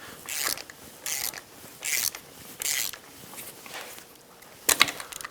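A ratchet wrench loosens tight bolts on a Yamaha YXZ1000R engine, heard as four short bursts of rapid clicking at an even rhythm, then a sharper, louder final burst, close up with no talk.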